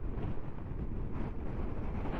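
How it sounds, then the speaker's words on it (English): Strong wind buffets the microphone while riding a 2023 Honda CB500X motorcycle on an open road, a loud, constant rumbling roar with no voices. "As you can hear now, really being pushed by the wind here now."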